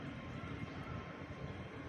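Airplane flying near Bangalore airport, a steady, distant roar of aircraft engines filling a brief outdoor moment.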